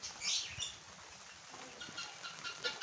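Australian parrots kept at home chirping and calling in a few short, faint bursts over a quiet background.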